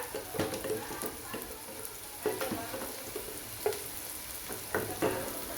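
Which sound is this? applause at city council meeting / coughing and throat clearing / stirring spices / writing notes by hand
stirring spices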